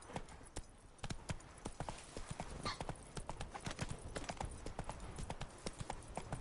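Horse hooves clip-clopping in the video game The Witcher 3: Wild Hunt, a rapid, regular series of sharp hoof knocks at close range, fairly quiet, with a faint whinny partway through.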